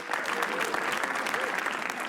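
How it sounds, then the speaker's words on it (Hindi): An audience at a comedy roast show claps in a steady, dense burst of applause for the host, with a voice faintly audible underneath. "ताली बजाओ सब लोग"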